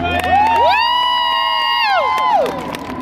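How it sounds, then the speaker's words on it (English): A crowd at a lumberjack festival axe-throwing contest cheers and whoops loudly together, a sustained swell of voices that rises and then fades near the end. "Make some noise for him"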